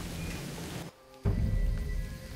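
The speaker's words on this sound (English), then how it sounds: "At least the rain's easing up." Rain falling in the Jurassic Park video game, a steady hiss of rainfall that cuts out briefly and then returns at full loudness.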